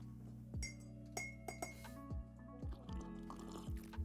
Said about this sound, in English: I add 2 teaspoons of sugar and stir